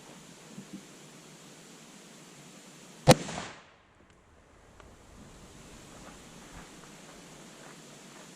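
A single sharp .308 Winchester rifle shot fired into a ballistic gel test block outdoors, a loud broadband crack with a short decaying tail against steady wind and surf-like background noise.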